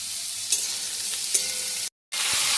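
Onion, chopped garlic and sliced pointed gourd (potol) fry in a pan, a bright steady sizzle with a few quick stirring scrapes, briefly cut off by a short gap before resuming, no speech.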